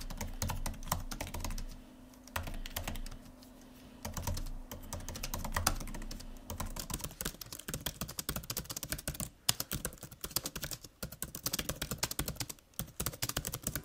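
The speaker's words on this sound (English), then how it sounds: "here's a type test between the two for you keyboard guys out there" Steady typing on a MacBook Air 2020 or MacBook Pro 2015 laptop keyboard, quick soft key clicks running continuously, growing a bit sharper and busier toward the end.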